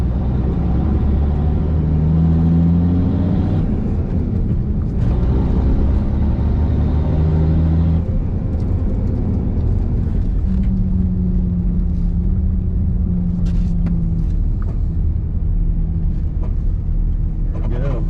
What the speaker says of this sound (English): This thing's got an MV5600 in it. We'll see how it shifts.